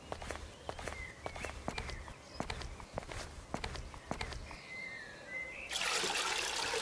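In the video game Old Times, footsteps tread at an uneven pace while water sloshes in a carried bucket, soft and close, with a burst of louder rushing water toward the end.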